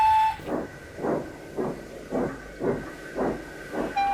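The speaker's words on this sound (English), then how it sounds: "the train was ready, and Jinty set off with a friendly whistle" A steam train puffs in a regular chuffing rhythm, about seven beats, with a brief whistle tone at the start and end.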